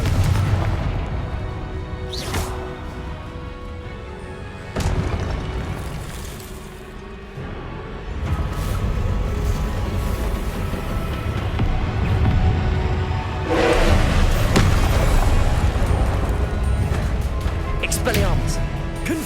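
Confringo spells in Hogwarts Legacy erupt as a run of deep booming blasts over a continuous game soundscape, several loud bursts spaced a few seconds apart, with a voice calling out in between.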